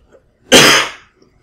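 One sharp, forceful cough bursts out close by, breathy and loud, then fades to silence.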